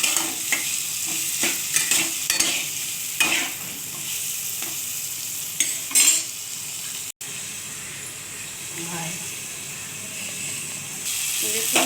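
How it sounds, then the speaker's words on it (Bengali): Pumpkin stir-frying with black cumin and two green chillies, a continuous close sizzle and hiss with repeated spatula stirs and scrapes, faint talk underneath at times. "দেখুন কালো জিরে দিয়ে দিয়েছি, এবার কুমড়োটাও তুলে দিয়েছি, কাঁচা লঙ্কা দুটো দিয়ে এটাকে ভালো করে নেড়ে চেড়ে"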